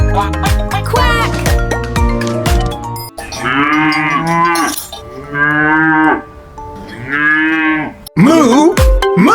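Several long, loud cow moos, one after another, with a sung melody in the background at the start.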